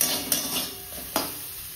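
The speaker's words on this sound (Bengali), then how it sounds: "উচ্ছে ভাজা করব" Bitter gourd slices frying in a home kitchen pan, a soft steady sizzle with a few sharp clinks of a utensil against the pan, close and moderately loud, no talking.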